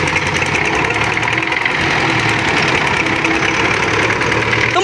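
An old 1980s tractor engine drives a modern water pump, running steadily and loudly up close with a continuous knocking, idling rumble and vibration throughout.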